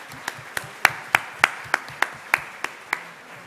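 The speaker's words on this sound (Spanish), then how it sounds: "un aplauso para la conferencia que han hecho" Sparse, evenly spaced claps from a small audience at a Kabbalah and Tarot conference talk, about a dozen sharp hand claps in a steady rhythm, fairly close, with no talk over them.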